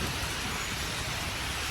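Heavy rain falls on a street in Mecca during a thunderstorm, a dense, steady hiss of downpour that stays even and unbroken, with no voices.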